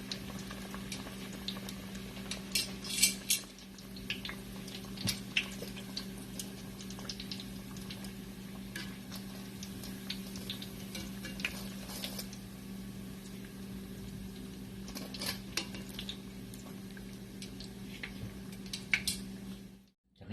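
Beef empanadas fry in hot oil with a steady bubbling sizzle. Small pops and crackles rise over a constant low hum and run throughout, with no voices.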